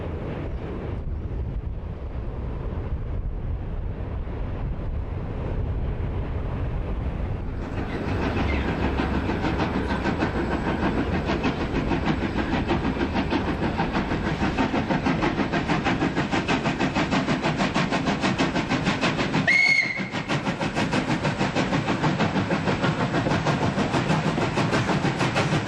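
A Mikado steam locomotive hauls a prestige train across the Rouzat viaduct on a sawtooth line, a steady distant rumble under heavy wind noise that swells into a louder, continuous roar as the train passes, with one brief sharp accent near the end.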